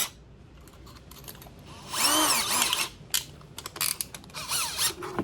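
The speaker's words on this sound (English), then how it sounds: "Hopefully this drill bit doesn't die" Bursts of a power drill whining up and down as it bores holes while installing a bed rail system on a Nissan Frontier, with short stop-start pulses and clicking between runs, close and fairly loud.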